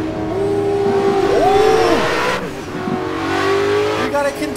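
Car engine in a racing video game idling high and revving in rising and falling sweeps, steady and loud, with a brief swell and sharp change near the end.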